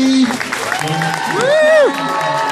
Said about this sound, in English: a nice round of applause for Steve